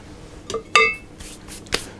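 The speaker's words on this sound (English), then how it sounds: "I'm going to put it into the oven" A metal blondie tin set into an oven, with a few sharp metallic clanks and clinks close by and a brief rattle between them, then quiet.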